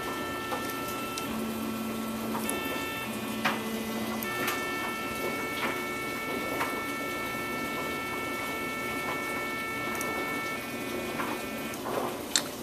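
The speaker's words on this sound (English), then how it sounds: "Each axis will go up until it hits an end stop." A Rostock MAX delta 3D printer homes its axes to the end stops, giving a steady whining motor hum with faint ticks and a few clicks, close and fairly quiet with no talking.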